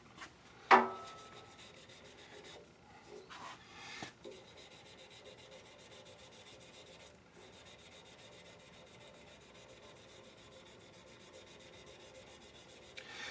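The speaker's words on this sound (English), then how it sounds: "there's a lot of sanding to these things" Steady, quiet rubbing and scraping of sandpaper on a wooden shaving brush handle, continuous and close, with a few sharper knocks near the start.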